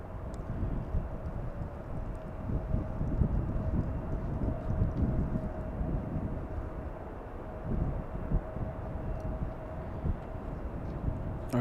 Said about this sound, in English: we have a SkyWest on final approach. E175 flying in from Boise, Idaho.